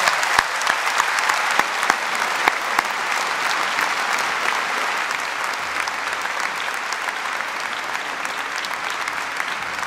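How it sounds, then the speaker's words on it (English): Audience at a university graduation ceremony applauds the graduates in steady, dense clapping that fills the hall for about ten seconds, easing slightly toward the end. "Please join me in a round of applause for the graduates"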